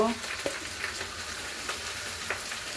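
Potatoes fry in a pan with a constant soft sizzle and a few light stirring clicks, heard fairly close with no talking.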